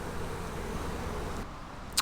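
Bees hum steadily inside the main body of a commercial poly hive during a nuc transfer, a low continuous drone that drops off slightly near the end before a brief sharp knock.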